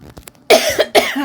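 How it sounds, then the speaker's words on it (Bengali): A person gives two sharp, close coughs in quick succession, preceded by a few faint clicks. "আস্তে আস্তে কাশি আসে।"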